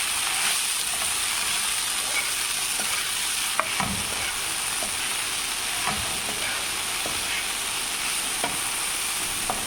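Okra stir-fries in a home kitchen pan with a constant bright sizzle and hiss, punctuated by a few soft knocks and scrapes of stirring, close and unbroken throughout.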